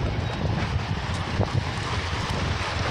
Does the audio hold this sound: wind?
yes